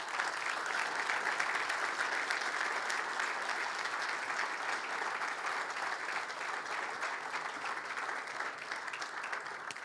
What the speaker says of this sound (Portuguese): para quem peço uma salva de palmas